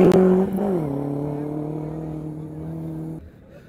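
A rally jeep at the Cholistan desert jeep rally roars past close by, its engine tone sliding lower as it goes by, then holding a steady drone before cutting off abruptly.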